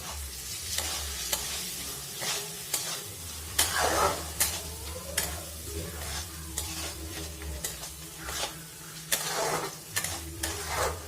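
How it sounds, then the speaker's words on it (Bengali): Potatoes fried in oily spice paste for a Bengali katla fish curry, sizzling steadily up close while a spatula scrapes and stirs the pan in repeated sharp strokes. "এবার এটা আমি আলুগুলো দিয়ে আরেকবার কষে নেব।"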